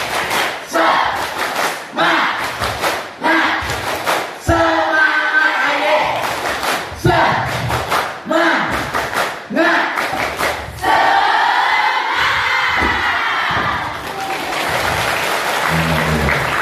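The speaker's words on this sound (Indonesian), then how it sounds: "Tepuk semangat" A crowd at an Indonesian vocational school gathering performs a rhythmic spirit clap, loud patterned bursts of clapping alternating with shouted group chants and cheers, close and energetic over about seventeen seconds.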